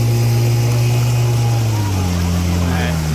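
A 1960 Johnson 5.5 HP outboard motor drones steadily and loudly on a small boat in rough water, its pitch shifting slightly as the throttle rises, with wind and water rushing throughout.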